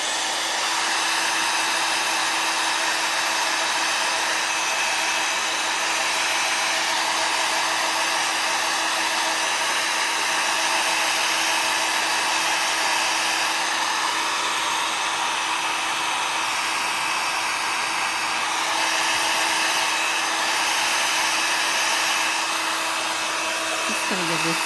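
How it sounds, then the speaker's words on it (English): A heat gun runs continuously for a card-making embossing job, giving a steady loud blowing whir with a constant motor hum, alone and unbroken from start to finish. "I have to turn on the heat gun for a bit."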